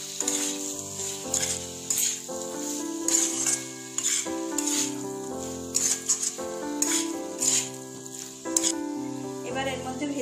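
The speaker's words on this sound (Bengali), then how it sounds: "আলুটা মশলার সাথে মিশিয়ে নেব।" Boiled potato pieces stirred with spices in a hot sizzling pan, steady frying hiss under layered background music with intermittent scraping stirs.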